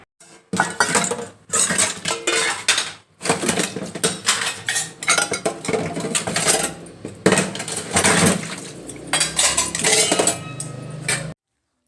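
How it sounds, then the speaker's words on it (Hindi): A sink full of breakfast dishes being washed at home: steel pots, plates and cutlery clatter and clink constantly, loud and close, with short pauses between bursts of scraping and knocking. "तो अभी जा रहे हैं बर्तन धुलने।"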